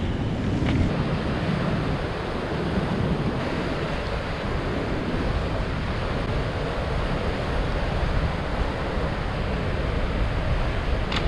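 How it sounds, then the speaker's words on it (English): Steady roar of cold ocean surf mixed with gusting wind buffeting the microphone, continuous and loud throughout, with no talking. "The swell picked up quite a bit, but it's cold, it's windy."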